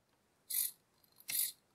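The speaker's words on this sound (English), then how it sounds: "the servo moves only about 90 degrees" Two short whirring bursts from a small servo motor driven by a joystick on a Raspberry Pi robotics setup, each lasting about a quarter second with a brief pause between, close and fairly quiet.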